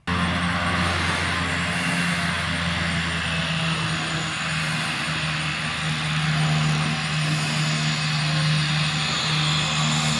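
Cessna Caravan single-engine turboprop airplane droning steadily and loudly throughout, a sustained engine roar with a constant low hum while operating from a grass field, no voices.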